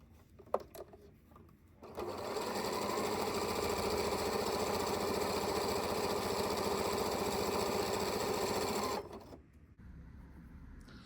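A Janome Hello Kitty sewing machine runs a zigzag stitch at 5 mm width and 2 mm length, a steady close mechanical whirr lasting about seven seconds, with quiet handling clicks before and after.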